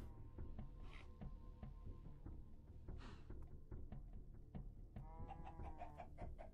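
Three hens clucking in the Minecraft mod TerraFirmaCraft, short repeated clucks and a squawk scattered over a steady low game background, with a few sharp clicks in between, no speech.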